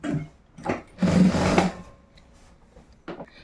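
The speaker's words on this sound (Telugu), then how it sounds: "ఈ విధంగా ఫోల్డింగ్ అనేది చేసుకొని ఇక్కడ నుంచి కుట్ట అనేది వేసేసుకుంటూ రండి" A sewing machine stitches boys' school uniform shorts in short, close bursts: a brief whir, a longer run of about half a second, then another quick burst after a pause.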